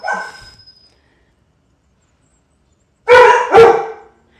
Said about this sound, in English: my dogs are playing